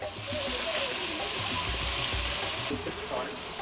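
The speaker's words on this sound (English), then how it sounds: "Since onion is brown now, so we need to keep on stirring it." Browned onions fry in a pan and are stirred, with a steady sizzle and low scraping knocks from the stirring running throughout.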